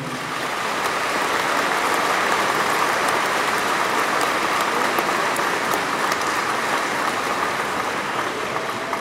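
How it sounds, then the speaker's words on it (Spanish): Sustained, even applause from a large audience at a bishop's canonical installation ceremony, a dense steady hiss of many hands clapping that holds at full level for the whole stretch without pause. "Un aplauso a toda la provincia de Morelia."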